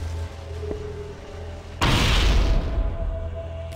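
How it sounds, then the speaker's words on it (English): Energy Sword sound effect from the Halo games: a low electric hum, then a sudden loud crackling burst that surges and slowly fades. "It's this sound that I think helps to give the Energy Sword so much of its character"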